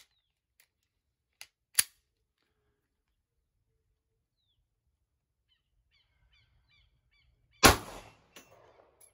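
A 9mm pistol firing test rounds loaded with Imbel Tucano powder and 125gr projectiles, a few isolated sharp cracks separated by long quiet gaps, with one loud shot near the end.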